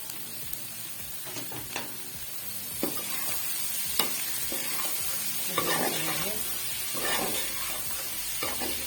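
Cubed capsicum cooks in a pan for chicken pasta: an ongoing sizzle with repeated clicks and scrapes of a spatula stirring, plus occasional louder pops, close and steady for several seconds.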